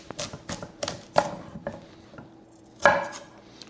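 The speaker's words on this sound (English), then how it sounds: "I just need to roughly chop the rhubarb" A knife roughly chopping rhubarb stalks on a cutting board, a series of close, crisp thuds in an uneven rhythm with a brief pause before one final heavier chop.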